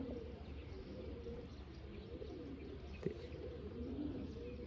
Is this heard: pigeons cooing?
yes